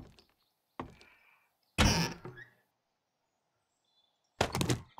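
Loud door opening in the video game 7 Days to Die, heard as a few separate heavy thunks and creaking scrapes in bursts with silence between them.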